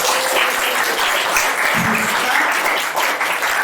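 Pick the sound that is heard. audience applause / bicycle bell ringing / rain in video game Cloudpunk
audience applause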